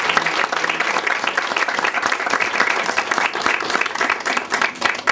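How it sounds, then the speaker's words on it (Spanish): Sustained applause from an audience at a tribute event, dense steady clapping filling the room for several seconds with no speech over it. "Y yo creo que Chema merece otro aplauso"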